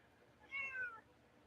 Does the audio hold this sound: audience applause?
no